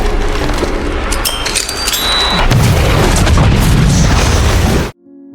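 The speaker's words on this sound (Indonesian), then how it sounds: "merelakan dirinya untuk berkorban dengan meledakkan seluruh granat yang ada di tubuhnya" Grenades detonating in a zombie film: loud, sustained booming blasts with deep rumble and crackling debris that build in force, then cut off abruptly near the end.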